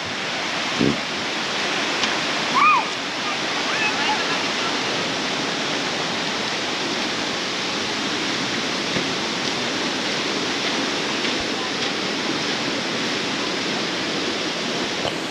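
Running water flows steadily in El Salvador, a loud unbroken rushing wash like a stream or small waterfall, close by, with a couple of brief knocks near the start and no talk.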